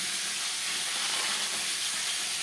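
Shol fish frying in oil, a continuous bright hissing sizzle at steady intensity, close and unbroken throughout.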